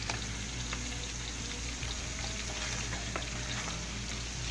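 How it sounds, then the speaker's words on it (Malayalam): Chicken biryani masala being stirred in a pot with coriander and mint leaves added, giving a steady close-up bubbling, sizzling cook-pot texture with faint scraping throughout. "ഇത് നല്ലതായിട്ടൊന്ന് ഇളക്കി കൊടുക്കണം"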